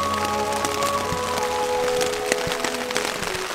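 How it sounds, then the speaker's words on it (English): Rain falling steadily in Montana, a dense patter of drops with scattered sharper taps and cracks against surfaces, continuous and fairly close with no talking. "We got rain."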